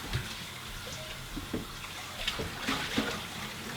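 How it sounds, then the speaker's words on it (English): Steady running water from a kitchen tap while cooked ground beef is rinsed, a continuous moderate splashing hiss with small gurgles and clinks, close and without speech. "So Tara is over rinsing it to see if it works out differently."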